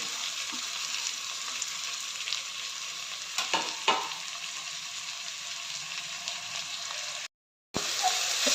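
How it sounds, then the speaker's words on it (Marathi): Onion, tomato, carrot and cashews fry together in a pan with an even, steady sizzle and a few stirring scrapes, close and continuous, with a brief gap near the end. "कांदा टोमॅटो गाजर आणि काजू सर्व हे एकत्रच भाजून घेऊया"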